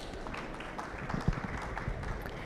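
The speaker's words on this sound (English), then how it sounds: "an attentive round of applause" An audience at a finance conference session on offshore markets gives a steady round of clapping, dense and even throughout with a slightly sharper clap near the middle, moderately loud and without talk.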